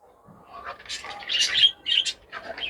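Caged pet birds chirp in quick, high bursts close by, with brief pauses between the calls.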